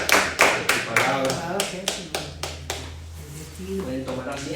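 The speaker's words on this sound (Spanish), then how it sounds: "Te un fuerte aplauso, Señor" A church congregation breaks into applause during a worship service, a run of sharp claps and taps spread over a few seconds, loud and close, with voices and a sustained musical tone continuing underneath.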